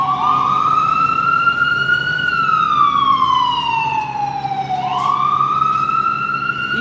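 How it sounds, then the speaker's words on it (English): A loud ambulance siren wails nearby on a New York City street, its pitch sliding up and down in long sweeping cycles over a low rumble of traffic. "Ambulance."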